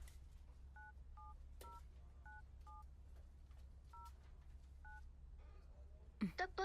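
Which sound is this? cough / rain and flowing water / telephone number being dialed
telephone number being dialed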